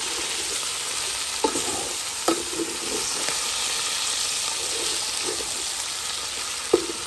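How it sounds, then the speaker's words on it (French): Chicken and mushroom curry sizzles and fries steadily in a pan, with occasional soft clicks and scrapes of stirring over the continuous hiss. "Là, je mélange."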